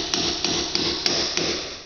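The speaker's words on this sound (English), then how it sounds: "you'll take this nail set, place it to your nails that are sticking out," A hammer strikes a steel nail set to sink protruding nails into wooden trim: five sharp metallic taps, close and loud, spaced roughly evenly with no voices.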